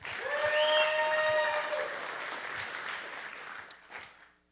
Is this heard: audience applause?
yes